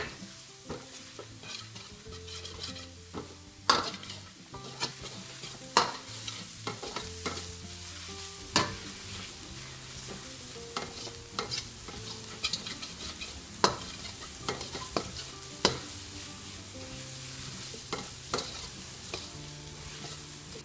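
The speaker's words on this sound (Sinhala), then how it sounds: "දැන් මේ ටික හොඳින් මේ වගේ කලවම් කරගන්නවා." String hopper kottu ingredients are stirred and tossed in a frying pan for a Sri Lankan dish, with steady sizzling and frequent scraping clatters of the spatula throughout, over faint background music.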